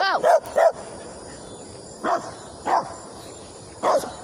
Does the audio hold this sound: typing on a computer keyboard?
no